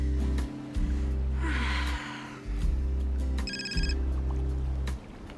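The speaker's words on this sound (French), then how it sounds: "C'est ton portable, il est en train de sonner." A mobile phone ringing with a short melodic electronic tone, heard once midway over a loud low droning hum, with breathing and a faint gasp nearby.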